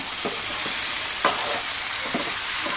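Country chicken curry sizzles loudly in a pan with water just added, a continuous hiss broken by a few stirring scrapes and one sharper knock, no talking.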